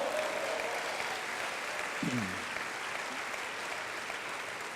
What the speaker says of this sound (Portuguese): Vamos dar mais um aplauso.